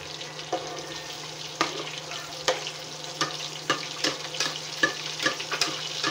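Tilapia fries in a pan of Doña Elena pure olive oil, giving a steady close sizzle with frequent crisp pops and spatters and no voices.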